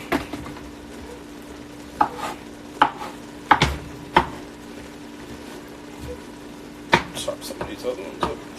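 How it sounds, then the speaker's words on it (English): Fresh mushrooms being chopped on a cutting board in a home kitchen, a handful of sharp knife strikes spaced irregularly, some in quick pairs, close and moderately loud over a low steady hum, with a few soft handling noises between. "Probably should chop those up a little bit"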